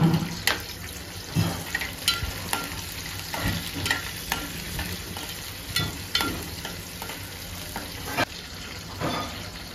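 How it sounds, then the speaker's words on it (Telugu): Green chilies and onions frying in a pan for brinjal masala, a close, continuous sizzle broken by repeated sharp scrapes and knocks of stirring, with no one speaking. "కొన్ని పచ్చిమిరపకాయలు, ఉల్లిపాయలు కొంచెం మగ్గిన తర్వాత వంకాయ వేయాలి."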